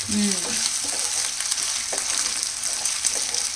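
A paste fries in a hot pan with a constant dense sizzle that stays close and steady, along with a few light stirring knocks near the start.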